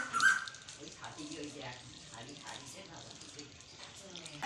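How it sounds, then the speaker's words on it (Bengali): Water drains off 90%-boiled rice as a soft, uneven trickle and splash, fairly faint and close. "তো আমি এবার ভাতটা এরকম জল ঝরিয়ে নেব,"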